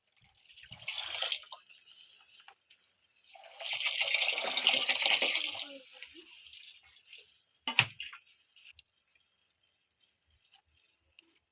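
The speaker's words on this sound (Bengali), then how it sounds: "একটু পানি দিয়ে দিই।" Water poured into a cooking pot of khichuri in two short splashing bursts, followed by a sharp clink and then near silence.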